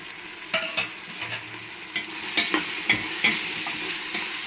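Sambar powder, pepper and chilli powder stirred into a sautéed mixture in a pan under a steady sizzle, with several distinct scraping stir strokes close by and no speech.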